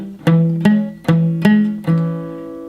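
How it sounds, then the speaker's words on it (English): Acoustic guitar chords strummed with strings pressed too softly, giving a thin plinking, buzzy tone; five separate strums ring out in a steady rhythm, close and clear with no talking. "push them so softly that you get a lot of plinking sort of sound like this."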